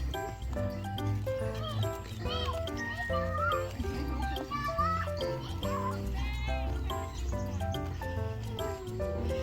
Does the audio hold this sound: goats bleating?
yes